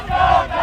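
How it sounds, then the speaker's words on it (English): Brandeis fans cheering loudly for their team at a quidditch game, a short, loud burst of crowd roar. "You can hear Brandeis cheering loudly for their team."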